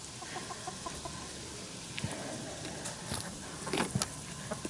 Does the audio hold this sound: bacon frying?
no